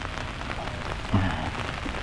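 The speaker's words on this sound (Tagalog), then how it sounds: "bumuhos po yung malakas na ulan" Heavy rain pours steadily on a vegetable plot, a dense even hiss of drops drumming on surfaces with no pauses.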